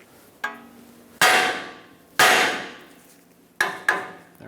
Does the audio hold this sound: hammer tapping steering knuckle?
yes